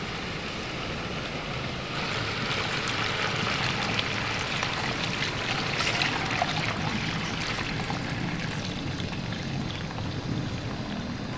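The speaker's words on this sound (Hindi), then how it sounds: "अब मैं इसमें यखनी शामिल कर दूंगी।" Mutton stock (yakhni) is poured into a pot for mutton pulao, a steady splashing, gushing rush that starts after a quiet moment and carries on evenly at close range.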